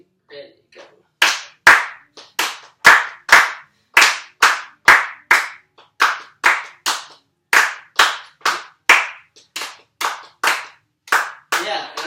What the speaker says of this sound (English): let's just clap out that rhythm without the subdivisions